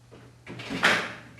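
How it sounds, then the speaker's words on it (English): A slide bolt on a wooden chuck box (patrol box) is pushed into place, making a short, close scraping slide that rises to a sharper metallic-wooden clack near the end. "slide our bolts into place"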